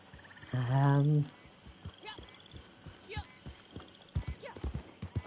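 Horse hooves clip-clop in Red Dead Redemption 2 Online, a string of soft irregular thuds after a brief loud tone near the start, with a faint voice murmuring in the background.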